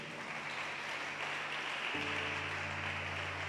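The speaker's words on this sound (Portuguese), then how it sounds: "Vamos aplaudir Jesus bem forte." A church congregation claps together in a steady wash of applause, a dense continuous patter that holds at even loudness throughout, with a low hum joining partway.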